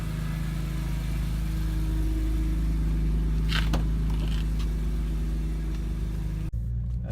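A right-hand-drive BMW E46 M3 on a test drive after a steering coupler replacement, its engine a steady loud rumble with road noise throughout, a brief clatter midway, and an abrupt drop near the end.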